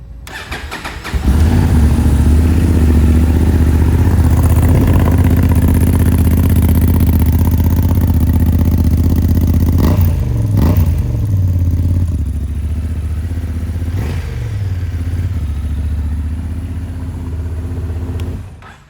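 A modified motorcycle with a quick shifter, skid plate and large fuel tank starts and settles into a loud, deep idle, with a couple of brief throttle blips partway through, close up and with no talking.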